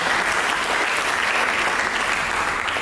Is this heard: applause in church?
yes